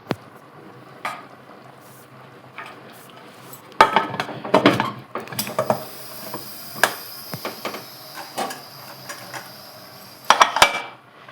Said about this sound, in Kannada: ಈಗ ಕುಕ್ಕರ್ ಬಾಯಿ ಮುಚ್ಚುತ್ತೀನಿ.